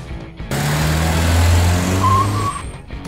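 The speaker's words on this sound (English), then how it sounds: "Microcar." A microcar engine running close by, a buzzy, steady drone that swells in after a brief lead-in, holds for about two seconds with a rising whine near the end, then fades.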